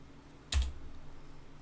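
A single sharp keystroke on a computer keyboard, entering an Alt key shortcut while programming a PLC, lands close and crisp after a short quiet pause, followed by faint room hum.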